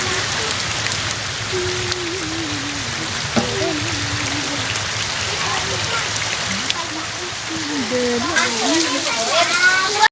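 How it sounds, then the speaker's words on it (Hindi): Steady rain showers over a street in a neighbourhood, a continuous broadband hiss of drops with voices and some background activity mixed in throughout. "बारिश की बौछार शुरू हो गई और पूरा बारिश ही बारिश"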